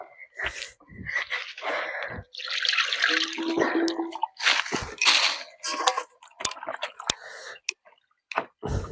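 Water splashes and drips in quick, uneven bursts as something is rinsed by hand, probably meat, with pauses between the pours and squishy wet handling close by.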